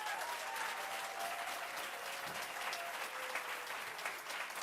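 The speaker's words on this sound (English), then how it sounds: "Let's give that a round of applause." A room full of people applauding at an official ceremony celebrating a wind turbine project, even continuous clapping that holds steady at moderate volume from start to finish.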